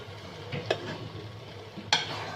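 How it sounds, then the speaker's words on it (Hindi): Chicken chow mein noodles being stirred and tossed in a pan, two distinct scraping clanks of a utensil against the metal over a low sizzling hiss. "और ये डालने के बाद हम इसको अच्छी तरीके से मिक्स करेंगे।"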